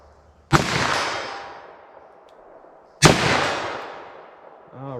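Two loud, sharp gunshots from a .327 Federal Magnum revolver fired into ballistic gel outdoors, spaced about two and a half seconds apart, each with a long decaying echo, and a short bit of talk at the end.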